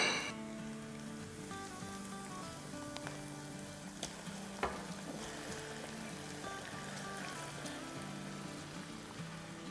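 Marinated chicken hitting hot oil in a handi gives a steady, close sizzle and crackle with occasional sharp pops, running continuously throughout without any speech.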